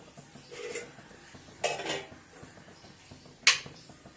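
Marinated chicken goes into a mixing dish for stuffed chicken buns, with a few separate clinks and scrapes of a utensil against the bowl and a soft, wet drop, quiet and close with gaps between.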